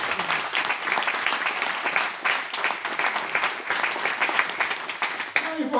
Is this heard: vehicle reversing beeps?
no